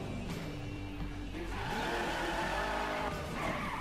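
Car engine and squealing tires in The Crew racing game: a loud engine note rising and falling under a sustained skid and tire squeal, with no voices over it.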